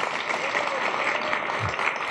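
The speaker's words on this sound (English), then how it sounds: "Can we give them both a round of applause?" An audience applauding at a tech conference session, a steady, dense patter of many hands clapping at even strength throughout, with no voices standing out.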